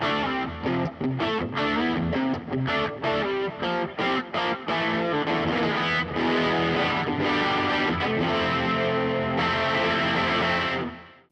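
Electric guitar played through a Fender Mustang Micro Plus amp with reverb, a busy stream of picked notes and chords with a slightly gritty edge, steady and close, ending in a fading reverb tail, no voices.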